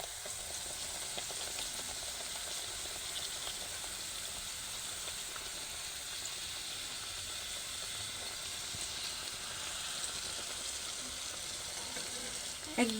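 Dalpuri, a lentil-stuffed puri, fries in hot oil after being flipped in a homemade village kitchen, giving a steady, loud, close sizzle and crackle that runs unbroken throughout with no talking.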